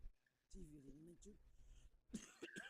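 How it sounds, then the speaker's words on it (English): A few rough coughs and throat-clearing sounds come close to the mic, quiet, with short pauses between them. "I am coughing a lot."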